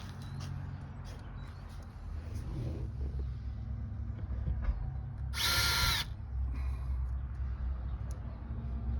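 A power drill runs in one short, loud burst, driving screws into the interior of a 1949 Ford soapbox car during upholstery and headliner work, with a low rumble beneath.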